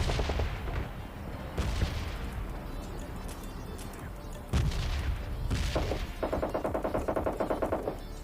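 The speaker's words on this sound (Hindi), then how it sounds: "सामने से भी फायरिंग के साउंड आने लगे थे" Gunfire from an M16 rifle in the mobile game PUBG Mobile Lite: loud sharp shots and bursts, including a rapid rhythmic volley toward the end, over a dense game soundscape.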